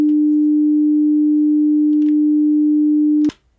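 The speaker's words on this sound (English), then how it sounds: "Pretty simple sine wave there." A pure, steady synthesizer sine tone holds loud and unwavering for about three seconds, then cuts off abruptly with a small click.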